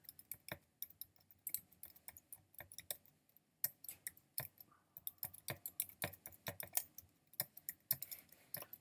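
Keys clatter on a computer keyboard as Java code is typed for a beginner's number game, with quick bursts of crisp clicks separated by short pauses, close and alone with no talking.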